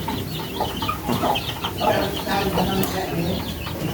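Young chicks being given a homemade vitamin drink peep and cheep continuously, a busy overlapping chorus of small birds close by with faint clucking undertones.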